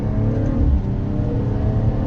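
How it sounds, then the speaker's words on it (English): A 2018 BMW M240i engine pulls hard at full throttle in third gear, a loud, steady rising drone heard from inside the car with no talk over it. "So I'm going to drop it down to third right here and do a little pull."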